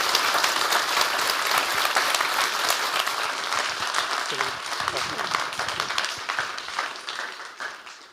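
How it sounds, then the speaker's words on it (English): A conference audience applauds steadily, dense clapping throughout that gradually thins and fades toward the end. "A big round of applause for Nanita at the side."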